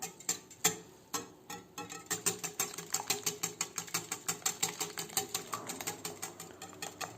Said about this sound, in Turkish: 2 yumurta akı, 1 yumurta sarısı, 1 çay bardağı da sıvı yağ. Güzelce çırpıyorum.